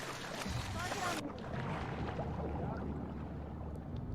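A boat engine runs in The Last of Us Part II, giving a steady, close, broadband rumble mixed with water and wind noise, with talk over it.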